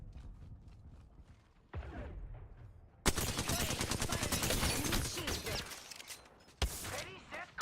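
Gunfire in Apex Legends starts quietly with scattered shots, then erupts into loud, rapid automatic bursts that rattle on for several seconds, with a final sharp volley near the end.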